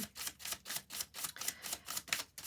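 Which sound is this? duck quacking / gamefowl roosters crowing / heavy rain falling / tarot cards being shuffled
tarot cards being shuffled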